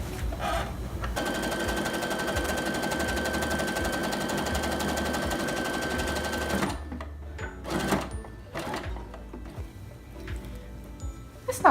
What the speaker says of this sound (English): We're doing a zigzag stitch so that it stays stretchy.